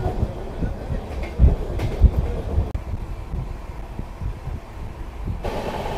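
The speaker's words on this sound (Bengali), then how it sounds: "ট্রেন লেটে ছেড়েছে ঠিকই, কিন্তু বেশ ভালো স্পিডে যাচ্ছে" An express passenger train in West Bengal runs at speed, heard from inside a carriage as a loud, steady rumble with low wheel thumps and rattling, continuous and close.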